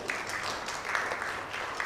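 An audience at a Bollywood-themed United Nations gay rights film event claps for the absent director, giving a steady, fairly loud burst of applause from many people, with no speech over it.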